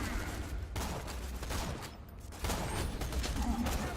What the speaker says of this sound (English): This guy's shooting at me quite a bit.